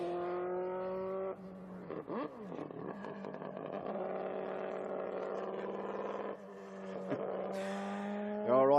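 Team 767B Hoshino's race car at the World Time Attack Challenge pulls out onto the track, its engine note climbing and shifting through steady harmonic revs, dropping briefly before rising again toward a louder surge at the end.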